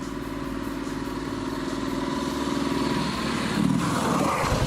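Soviet Dnepr 14.9 sidecar motorcycle with a high-speed final drive (3.89 ratio), its engine running steadily up close with a low rumbling drone and slight rise in revs toward the end, no talk.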